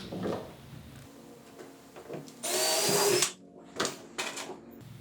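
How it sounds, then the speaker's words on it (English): Close power drill burst lasting about a second drilling a hole in a plastic kayak, followed by a few shorter clicks and whirs of the tool in a quiet room. "Go ahead and drill your other hole."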